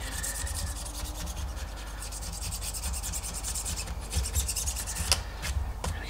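A razor blade scrapes brush paint off an MGB cylinder head in quick, repeated close strokes, a dry rasping scratch over a low steady background hum.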